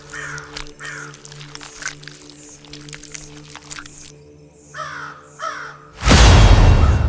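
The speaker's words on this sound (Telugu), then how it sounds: "తెల్లవారిందనగా ఎక్కడ్నుండో కాకి వచ్చి చెట్టుపై వాలింది." A crow perched in a tree caws repeatedly in short, harsh calls over a steady low drone, followed by a sudden loud burst of noise.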